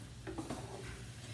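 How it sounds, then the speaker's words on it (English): Mushrooms and vegetables are stir-fried in a pan: quiet scraping stirs and soft clatter over a faint, steady sizzle, heard close and alone. "you like stir frying the vegetables. Keep stir frying"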